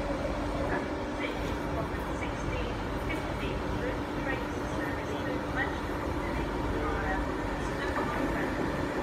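A Class 390 train rumbles steadily through Milton Keynes Central station, making a loud, continuous rolling roar with faint squeals over it and voices audible in the background.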